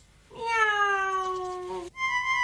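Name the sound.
cartoon cat meowing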